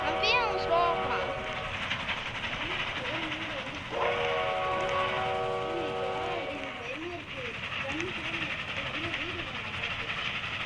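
A train rumbling along with repeated whistle blasts, the second starting partway through, as voices talk over the noise.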